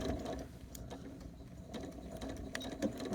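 A sewing machine stitches fabric for a cloth face mask, backstitching at the end of a seam; a steady, fairly quiet mechanical whir with a fast rhythmic pulse that runs without pause and has no talk over it.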